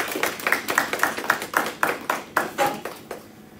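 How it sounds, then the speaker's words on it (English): A small audience at a launch event claps in a round of applause, with distinct individual claps in an uneven rhythm that fade out toward the end. "I think they deserve a round of applause too."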